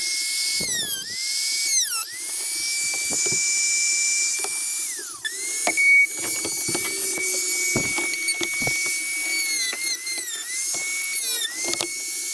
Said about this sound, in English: So I'm gonna try with the Dremel.